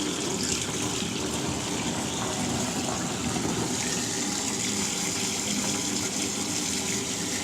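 Water gushes steadily from a tap into a bathtub, a continuous broadband rush at close range with no pauses, filling the tub for a bath with a bubble bar.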